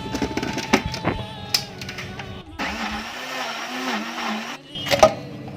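A mixer grinder whirs for about two seconds as it blends fresh mango pulp into aamras, the steady motor hum set between clattering handling knocks and short bursts before and after.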